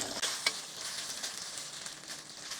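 Chicken pieces fry in a hot pan for chili onion chicken, giving a continuous close sizzle with light crackling and a couple of sharper stirring scrapes.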